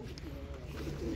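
Racing pigeons at a club gathering give a low, soft coo at close range, faint beneath background murmur and a brief voice.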